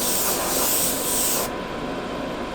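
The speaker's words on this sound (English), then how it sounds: "spray the thinners straight onto the paint." Thinners sprayed straight onto paint on a Zvezda 1/48 SU-57 scale model kit: a steady close hissing spray that cuts off partway, leaving a quieter hiss and room noise.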